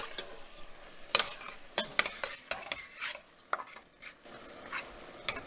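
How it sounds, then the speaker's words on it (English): Rice middlings stirred into sweated vegetables in a cooking pot, with a run of close scraping and clinking spoon strokes against the pot and a light sizzle underneath, and no voices. "And we're going to go ahead and give that a stir too."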